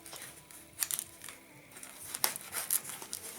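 Styrofoam packing around a newly unboxed metal cutting shear creaks and rustles as it is handled indoors, with a few sharp crinkling bursts standing out against quiet background.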